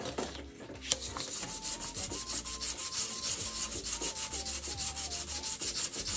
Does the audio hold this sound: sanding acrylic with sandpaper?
yes